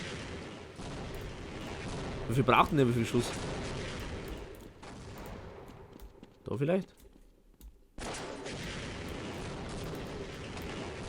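Bursts of rapid gunfire from the video game Half-Life, heard twice as short loud rattles under someone talking in German over continuous game noise.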